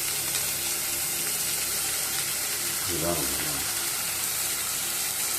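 Ground onion paste hits a hot pan for Chennai-style vadakari kurma, giving a steady broadband sizzle that stays loud and even, with a brief thicker gurgle partway through and someone speaking over it.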